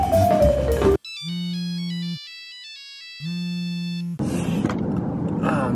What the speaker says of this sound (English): He just worked in the Nokia ringtone into a solo.